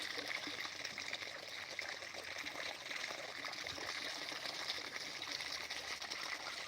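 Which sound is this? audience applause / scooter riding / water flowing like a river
water flowing like a river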